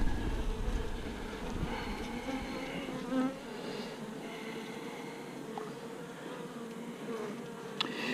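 Honey bees buzz steadily around an open hive during an inspection, a dense, continuous droning hum filling the whole stretch at moderate loudness with no talk.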